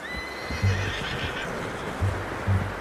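A horse neighs and whinnies in Red Dead Redemption 2, with soft hoof clip-clops and low thuds recurring through the short stretch, fairly close and free of talk.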